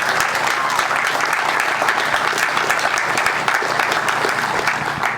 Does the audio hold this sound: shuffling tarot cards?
no